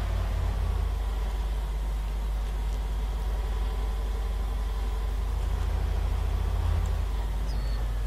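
In the video game ARMA III, a car engine hums on without a break, low and continuous, with a faint higher whine drifting in and out above the rumble.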